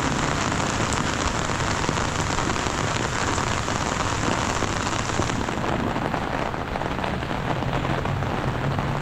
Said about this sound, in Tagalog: Nakalat yung ulan.